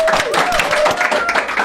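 A few people clap their hands in a podcast studio, close and loud, with distinct uneven slaps and some overlapping voices and laughter.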